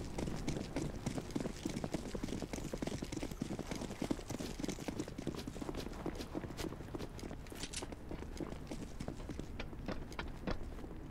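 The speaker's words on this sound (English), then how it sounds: "I hear footsteps" Footsteps in the tactical shooter CS:GO on the Nuke map, a dense run of quick, steady steps carrying through the whole stretch with no talk over them.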